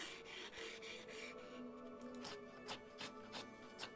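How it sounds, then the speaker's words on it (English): Sawing from below the floor in a Nancy Drew game, a faint rasping scrape repeating in strokes with a steady rhythm, quiet and slightly muffled, alone without talk. "Somebody sawing? What is that noise?"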